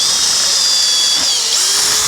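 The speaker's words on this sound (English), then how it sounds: "You go ahead and drill this all the way through." A loud, high-pitched power drill whines continuously as it bores through the horn cover of a 2023 Vespa GTS HPE2 scooter, close up and steady.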